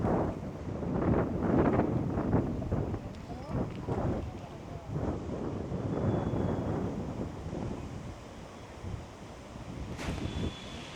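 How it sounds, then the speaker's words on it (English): Strong gusting wind buffets the microphone at the top of the Falkirk Wheel boat lift in Scotland, a loud continuous roar with surging bursts throughout, narrowboats nearby. "Very windy."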